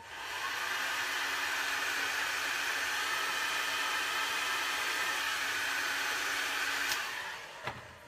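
A heat gun blows steadily close by while warming a car brake line hose, giving a smooth, even whooshing hiss that holds for about seven seconds before cutting off, with no talking.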